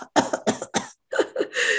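Several sharp coughs in quick succession, close and fairly loud, with short pauses between bursts and a longer rasping exhalation at the end.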